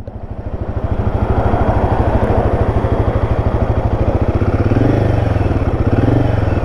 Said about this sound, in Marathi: स्विच चालू झालेला आहे. Engine start.